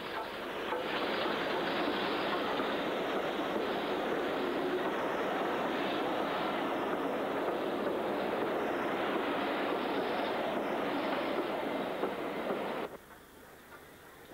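A British Railways 9F steam locomotive, number 92203, at Birkenhead Woodside Station produces a loud, steady, broadband roar that holds for about thirteen seconds and then cuts off abruptly to quiet background.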